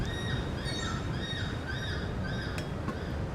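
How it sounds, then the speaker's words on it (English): Seagulls in Amerzone calling over and over, a loose chorus of repeated squawking cries rising and falling against a steady background wash, with one or two sharp nearby calls near the end. "Gulls are going mad."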